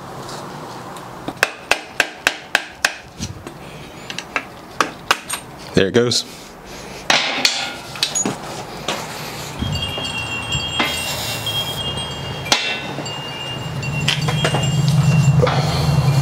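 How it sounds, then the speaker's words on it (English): Hammer tapping a screwdriver against the crown race of a Fox 32 fork on a 1996 Gary Fisher mountain bike: a quick run of sharp metallic clinks, then scattered knocks, with a voice speaking briefly. "I'm just gonna tap it off again with the screwdriver and hammer."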